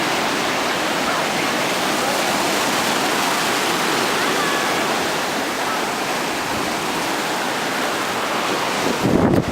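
Ocean surf at a beach roars steadily and loudly, a broad continuous wash of breaking waves with wind buffeting the microphone, with a brief jostle near the end.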